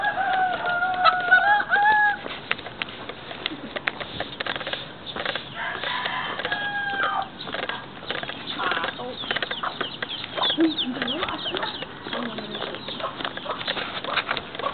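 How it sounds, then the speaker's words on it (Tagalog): Chickens in a rural Philippine setting, with rooster-like calls near the start and scattered clucks and wing flaps over steady background noise and some voices. "Uy, sir, video may mga manok,"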